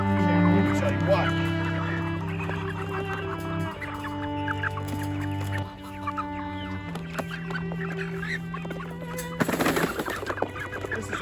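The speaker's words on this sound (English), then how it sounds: "Bunch of 3-4 pound birds." A flock of 3-4 pound chickens clucking and squawking close by, busy overlapping calls throughout with a burst of louder flapping and noise near the end, while a person talks over them.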